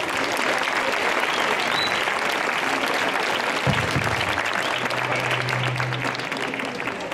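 An indoor audience applauds a speaker's welcome at an evening presentation, steady dense clapping from a crowd, with a low hum rising partway through.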